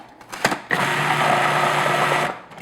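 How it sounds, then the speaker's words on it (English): Electric hand mixer whirring steadily through baking batter for butter tart squares, a brief clatter at the start before a continuous close, fairly loud motor drone that stops near the end. "I'm just going to mix that in."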